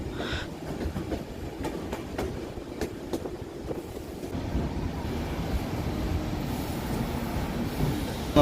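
A local passenger train running on a Bangladeshi line, heard from aboard as a continuous rumbling roll with rhythmic wheel clicks and faint squeals, steady and fairly loud.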